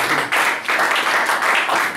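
A church congregation claps in a loud, rhythmic pattern of regular pulses, a few each second, with the surges rising and falling in close succession.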